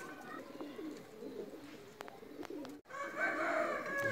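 A young cross-bred racing pigeon coos softly and repeatedly at close range after landing from a long flight, its low rolling calls over light background noise.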